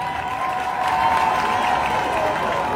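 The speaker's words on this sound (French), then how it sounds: "merci de faire un maximum d'applaudissements" Audience applause at an outdoor speech event in Oyem, Gabon, a steady dense wash of clapping from a large crowd, sustained and moderately loud throughout with no talk over it.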